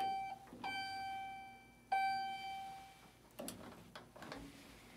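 A gated Otis/Schindler elevator in the Old Main building at Mercyhurst University beeps while its gate closes: two clear electronic tones, each followed by a short ringing tail. Quieter mechanical knocks of the closing gate come after them, with no voices.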